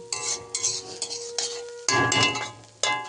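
Vegetables and peas are stirred in a frying pan for restaurant-style chow mein, with bursts of sizzling and scraping spoon strokes separated by brief pauses, heard close with no talking.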